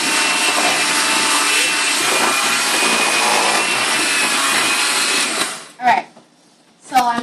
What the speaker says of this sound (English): now I'm going to mix it with my mixer.